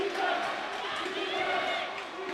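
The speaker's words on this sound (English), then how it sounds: "it's the Kenya Morans shouting defense right now" Home crowd of Kenya fans at a FIBA AfroBasket basketball game in an arena, chanting "defense" in a loud, sustained, rhythmic roar.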